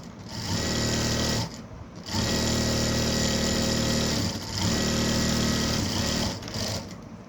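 A sewing machine stitches a blouse seam in three long, loud, steady runs separated by brief pauses, close up with no voices.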